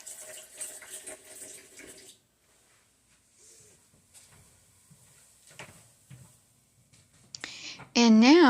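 Water runs from a kitchen tap into the sink as a bowl is washed, a short rush of flow near the start, followed by quiet handling clinks and a loud tonal burst at the end.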